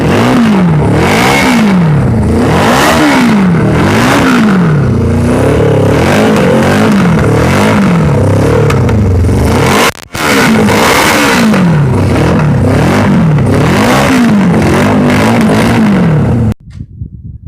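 A 1982 Yamaha 550 motorcycle engine revving up close and loud, rising and falling in repeated throttle blips with a brief cut midway before cutting off near the end.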